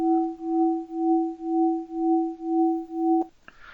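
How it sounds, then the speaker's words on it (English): A steady electronic synthesizer tone, modulated by a low frequency oscillator, pulses in a smooth, regular wobble about twice per second, then cuts off abruptly near the end. "here's our low frequency oscillator"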